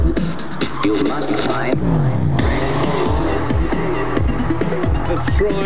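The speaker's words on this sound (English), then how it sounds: "A bit of a 360 in the Boxster" A Porsche Boxster spins a 360 at a stunt show, tires squealing loudly in repeated sweeping bursts over a revving engine, close and sustained.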